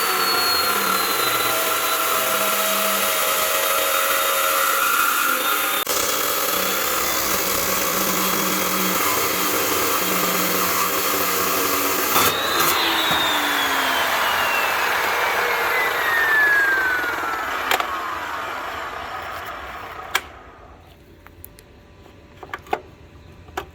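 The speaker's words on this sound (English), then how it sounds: "Chop saw." A chop saw cuts steel beside a shock mount welded to 1/2 inch plate: a loud, close, sustained grinding whine runs for about twenty seconds, pitch sliding downward near the end before the motor spins down with a few clicks.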